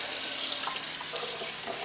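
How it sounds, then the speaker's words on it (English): Hot water runs steadily from a tap into a container, a continuous broadband splashing hiss heard close by and alone, prepared while making cracked pepper and garlic beef jerky. "Now I do some hot water"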